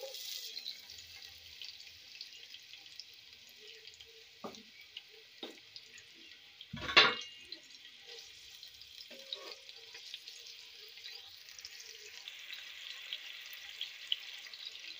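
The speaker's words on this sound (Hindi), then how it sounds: "अब हम इसमें डालेंगे प्याज।" Chopped onions drop into hot cooking oil for matar pulao, giving a brief louder crackle and then a faint, steady sizzle over quiet kitchen background.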